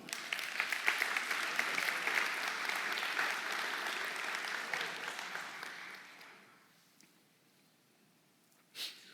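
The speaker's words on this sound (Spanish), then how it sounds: "Le doy un aplauso al Señor." Church congregation applauding together at a Spanish-language service, a dense steady wash of clapping that fades out after about six seconds, followed by near silence and one brief knock.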